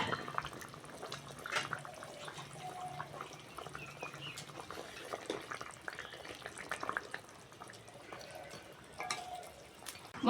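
Bengali rohu fish curry with ridge gourd, potato, tomato, mango and fried fish simmering in a pan gives off a faint, steady bubbling sizzle, quiet and continuous with no talking.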